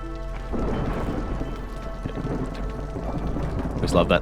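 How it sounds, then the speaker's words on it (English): Thunder cue warning of an approaching storm in the video game Against the Storm: a deep, sustained rumble with rain-like hiss lasting several seconds and swelling slightly at the end, with no talk over it. "A thunder sound effect plays about 30 seconds before the storm arrives"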